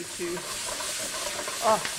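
Pork fillets sear in a hot pan, a soft, steady sizzle and hiss with a stirring scrape near the end, heard close up and moderately quiet.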